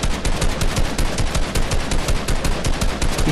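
Rapid, continuous automatic gunfire in a squad-based shooter game, loud and close, with fast evenly spaced bursts lasting the whole moment and no talk over it.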